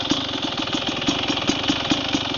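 A 2000 Kawasaki KDX 220 two-stroke dirt bike fitted with an aftermarket exhaust pipe runs at a steady idle, its engine pulsing in a quick, even rhythm close by and fairly loud throughout.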